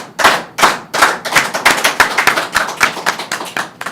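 A slow clap rings out, single sharp hand claps starting spaced apart and then quickening into a steady, closer rhythm, with no talking over it.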